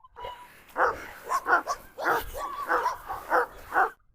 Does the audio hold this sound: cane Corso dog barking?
yes